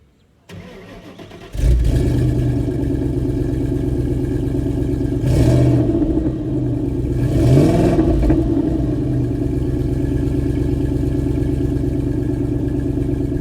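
A Ford Mustang GT V8 engine cranks and fires up, settling into a loud, deep rumble with a couple of throttle blips revving over the steady idle.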